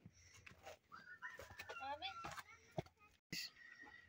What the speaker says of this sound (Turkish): Son bir horoz kaldı.